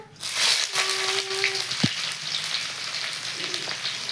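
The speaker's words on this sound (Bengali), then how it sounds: "ফোড়নে দিয়ে দিচ্ছি শুকনো লঙ্কা, আর একটা দালচিনি, আর দিচ্ছি গোটা জিরা।" Dry red chillies, a cinnamon stick and whole cumin seeds sizzle in hot mustard oil as a tempering for chicken biryani gravy, a steady close crackling hiss with one sharp click partway through.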